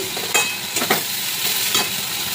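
Fried rice ingredients are stir-fried together in a hot pan, with a constant sizzle broken by a few sharp scraping bursts as they are tossed and turned.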